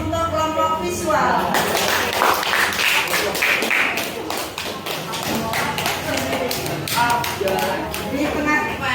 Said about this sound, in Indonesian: Kita beri aplaus untuk kelompok visual.